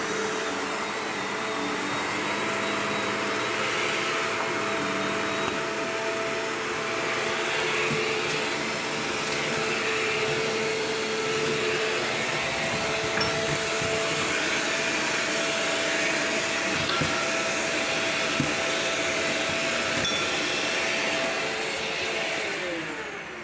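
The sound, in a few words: Shark Rotator vacuum cleaner running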